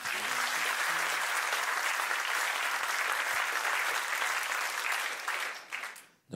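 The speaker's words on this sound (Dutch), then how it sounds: "Mag ik een warm applaus voor Maarten van Rossum?" Warm applause from a lecture audience in Utrecht greeting a historian onstage, loud dense clapping that holds steady for about five seconds and then quickly dies away near the end.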